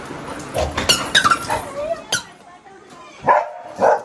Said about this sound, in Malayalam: വന്ന ആൾക്കാരോട് കുരയ്ക്കുന്നു